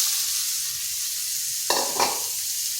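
Grated radish fries in a pan with a constant hissing sizzle, broken by two quick scraping stirs near the end.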